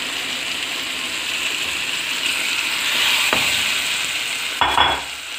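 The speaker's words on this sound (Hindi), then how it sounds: "टमाटो प्यूरी चली गई," Tomato puree hits a frying pan of ginger and garlic for restaurant-style butter chicken, giving a loud, steady sizzle that swells slightly, with a short utensil clatter near the end.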